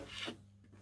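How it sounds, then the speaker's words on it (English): A short raspy pull of a zipper opening on a sewn pouch, a quick rough rasp lasting under half a second, close up, then quiet. "So I'm going to open my zipper up."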